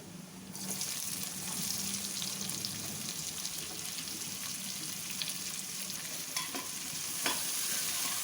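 Onions frying in a pan with ginger and garlic for home-style chana dal, a steady close sizzle with stirring scrapes running throughout and a faint tap or water sound early on.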